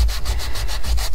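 Paper edges are sanded thin in quick back-and-forth strokes, a close, rhythmic scratchy rubbing with about six even passes in just over a second.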